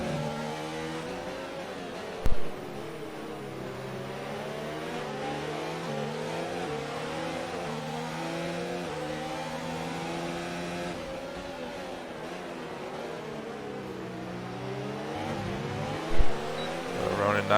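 Race cars roar around the Bahrain circuit in an Xbox racing game, a steady layered engine drone with rising and falling pitch as several cars run together, two brief sharp bumps, under continuous commentary.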